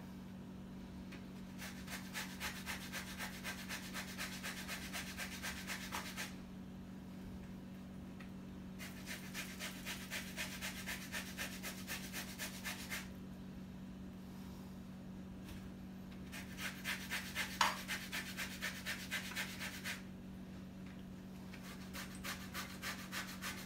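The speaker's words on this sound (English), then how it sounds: "Now what the zesting does, it gets out the oil and a little bit of the peel from the orange." An orange peel is zested for a ricotta cheesecake, a soft rhythmic rasping that comes in long bursts with pauses between them, close and quiet over a steady low hum.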